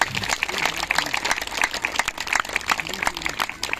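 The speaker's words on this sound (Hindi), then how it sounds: "एक बार खुद के लिए जोरदार तालियां बजा लेते हैं" Steady applause from an audience at a Baal Bhawan event in Gwalior, a dense run of hand claps lasting several seconds with voices mixed in.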